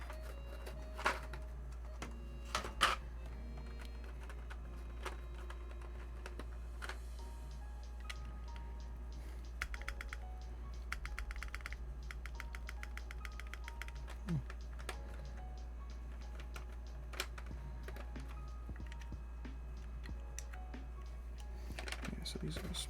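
Small keycaps being pulled off a Tess65 mechanical keyboard during a build, giving light plastic clicks and taps scattered unevenly over a steady low hum, with a voice talking quietly now and then.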